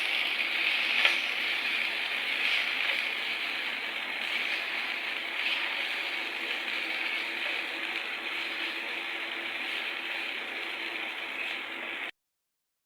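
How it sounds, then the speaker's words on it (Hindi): Vegetables and green chili frying in a pot, a steady crackling sizzle that holds evenly throughout at moderate volume with no talking, then cuts off abruptly just before the end. "इन सबको एक साथ कर लेते हैं हम फ्राई।"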